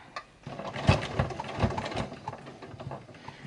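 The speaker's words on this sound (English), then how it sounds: "I'm going to just reverse a few stitches over that area" A sewing machine reverses a few stitches over a bulky make-up bag seam, giving short uneven motor whirs and needle chatter close by, stopping and restarting in brief bursts.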